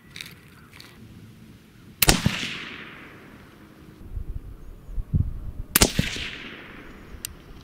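Two sharp, loud rifle shots from an AR15 coyote rifle in .223 firing Hornady 53-grain V-Max loads, each followed by a long, fading echo, several seconds apart over quiet outdoor background.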